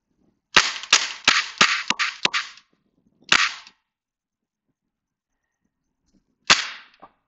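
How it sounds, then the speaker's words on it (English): An Umarex XBG BB gun fires into a box: a quick run of six sharp snapping shots, then a single shot and, after a pause, one more, each crisp and close against near silence. "I'm just going to go ahead now and shoot out the rest of this magazine here into the box on top."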